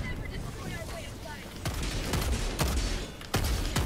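Bursts of automatic gunfire in Helldivers 2, with several sharp volleys cracking over a constant rumble of battle, loud and close.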